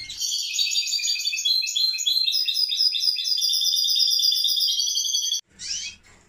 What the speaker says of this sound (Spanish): ¿Por qué mi amigo Pepín consiguió un canario cantando bien de jilguero